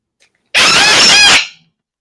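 A pet bird lets out a single loud, harsh squawk close by, lasting under a second and standing alone against otherwise quiet surroundings.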